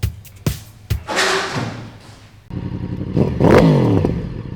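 A motorcycle starts off after a few thumps and clatters, its engine rising in revs with audible gear changes as the pitch climbs, drops and climbs again, close and loud.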